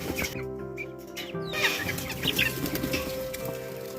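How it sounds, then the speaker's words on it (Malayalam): Ducks and ducklings in a home enclosure give a busy mix of nasal calls and clucking chatter, some flapping among them. The sound is fairly close and continuous, with no talk. "ഇതിൻ്റെ ഉള്ളിൽ താറാവും കുട്ടികളും ഉണ്ട്."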